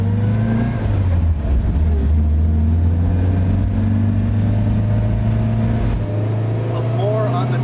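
A vintage small car, one of a Honda S600, NSU Spider or Fiat Millecento, pulls away under acceleration with a steady, loud low engine drone heard from inside the cabin for several seconds.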